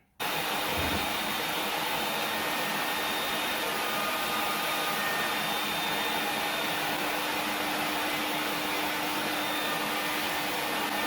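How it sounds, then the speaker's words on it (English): A vacuum starts abruptly and runs at a loud, steady roar with a constant whine, sucking out a pickup truck's gas tank without pause. "we got to vacuum out the gas tank"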